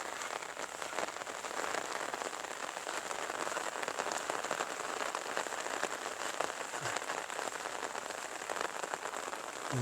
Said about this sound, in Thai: ดูฝนตกอากาศเย็นๆมีลมนิดหน่อยนะ